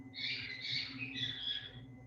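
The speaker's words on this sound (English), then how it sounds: "I think the bird agrees." A pet bird squawks in a short, fairly faint burst of harsh shrill calls with a brief pause between them, over a quiet indoor background.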